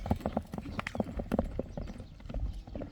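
Horse hooves pounding at a gallop, a rapid uneven clatter of close, loud hoofbeats continuing throughout with no talk over them.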